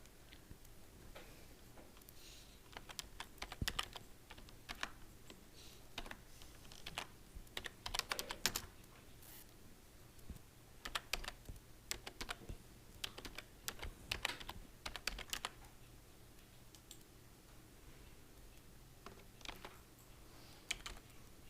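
Steady typing on a computer keyboard while entering Python code, with irregular bursts of crisp key clicks close up and quiet, no voices.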